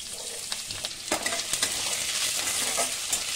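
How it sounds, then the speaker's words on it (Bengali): Chopped onion frying in hot oil with cumin seeds, a steady close sizzle with light stirring scrapes through the pan, no voices. "একটু হালকা ভেজে নেব।"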